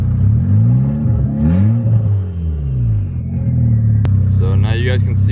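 A Volkswagen MK6 Golf R with a big turbo is revved several times at close range. Loud, rising and falling engine pitch swells over a steady idle rumble, with a brief mechanical whir near the end.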